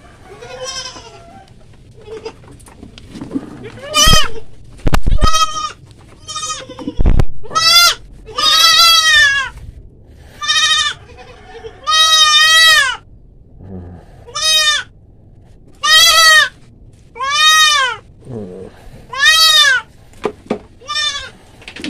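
Goats bleat loudly and repeatedly while being given monthly vitamin B complex injections in a pen converted from a pig enclosure, with a dozen or so separate wavering cries spaced a second or two apart and quiet gaps between them.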